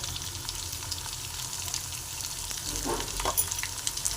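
Peanuts, dried chillies, turmeric and asafoetida fry in a pan with a steady, close crackling sizzle, and a few stirring scrapes and light clinks come near the end; nobody speaks.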